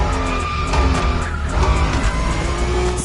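Honda NSX in The Crew Motorfest, a loud engine drone with tonal tire squeals and skidding layered over it, continuous and close, with no voice.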